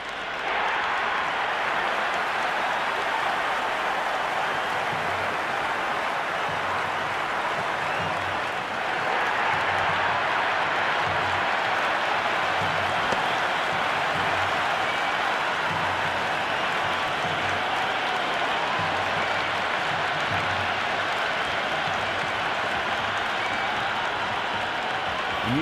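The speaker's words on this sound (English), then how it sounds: "It's evident and ever so audible that the crowd is at near bursting point at today's play." Stadium crowd at an IPL cricket match between DC and LSG, a steady loud roar of cheering and applause sustained throughout with no clear talk.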